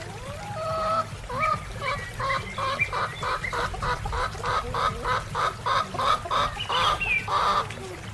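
A chicken clucks in a quick run of repeated calls, loud and close, with short pulses following one another steadily.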